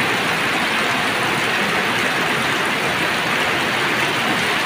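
Heavy rain pours down steadily in a dense, loud roar that stays constant throughout, with no voices over it.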